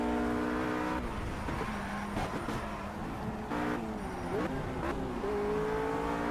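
A race car engine in the Project CARS video game, steadily droning and shifting pitch as it revs up and down through gear changes, with brief tire noise, loud and continuous without speech.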